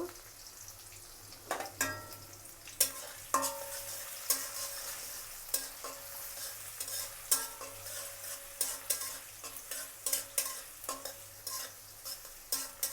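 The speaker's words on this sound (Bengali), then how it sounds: "প্রথমে আমি পেঁয়াজ কুচি দিয়ে দেব" Chopped onion frying in a pan for a prawn and potato bhuna, with soft sizzling under repeated scraping and clinking stirs from a spatula in an uneven rhythm, with no talking.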